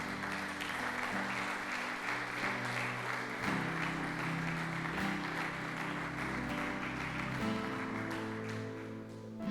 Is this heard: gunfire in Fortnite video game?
no